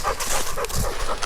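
Out in the woods of a Michigan nature park, a dog gives soft, close panting and whimpering sounds in a brief burst over outdoor background noise.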